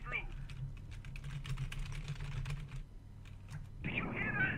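Computer keyboard keys get pressed rapidly during a Space Hulk video game session, a dense run of clattering clicks over a low hum. A voice speaks briefly near the end.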